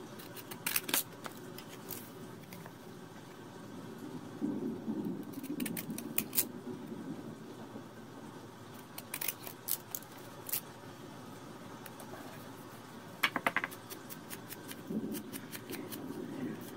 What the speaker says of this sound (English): Let's cut it with our wavy scissors.